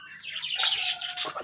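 Bright, overlapping chirps and tweets from chickens and chicks, close by and fairly loud, chattering continuously with no talking.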